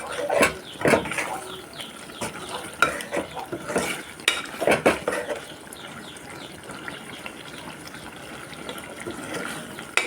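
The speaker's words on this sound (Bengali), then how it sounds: "বেগুন আর কাঁকরোলটা আমি সিদ্ধ করে নিচ্ছি ভালো করে" Eggplant and teasel gourd being stirred as they boil in a pot with a little water, giving scraping spoon strokes and bubbling that come in clustered bursts early on, then settle into a steady simmer.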